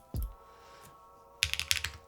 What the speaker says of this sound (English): Someone is building keyboards.